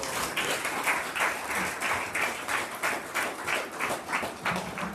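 At a Sri Krishna Janmashtami 2023 celebration, a crowd applauds His Grace with steady, fairly even clapping that pulses in a loose rhythm, moderately loud and with little talk over it.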